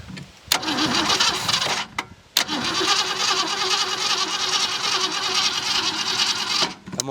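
A junkyard 1966 Ford Mustang V8 cranks with a short grinding burst, falls quiet, then cranks again and catches, settling into a loud, rough, steady running rumble that cuts out near the end.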